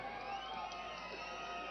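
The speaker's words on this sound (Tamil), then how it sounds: "ஆரவாரம்" A crowd at a political rally in the Nilgiris sends up a steady wash of cheering and shouting, continuous and fairly distant throughout.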